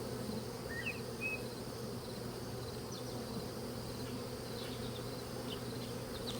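Honey bees buzz around an open hive box during a varroa mite check, a soft steady drone of many insects with faint passing buzzes nearby and no talk.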